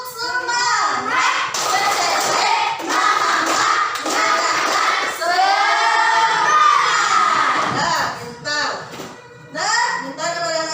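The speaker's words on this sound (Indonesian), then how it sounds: "Kita tepuk semangat." Classroom of young children doing the tepuk semangat clapping chant, loud shouted singsong voices with rhythmic claps and thumps, close and energetic throughout.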